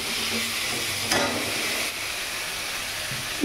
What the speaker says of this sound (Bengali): আলুগুলো দিয়ে একটু কষিয়ে নিই